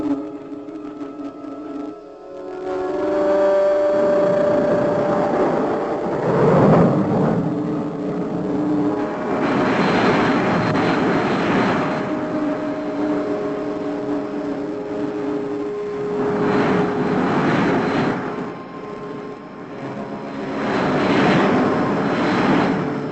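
A spaceship engine roars steadily as the craft comes in to land, a loud, sustained rumble with slow surges, heard alone with no voices.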